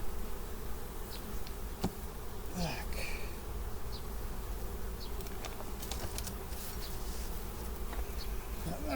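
Steady, continuous buzzing of many honey bees close by at hives during the linden bloom, a dense hum that fills the whole stretch with occasional louder passes.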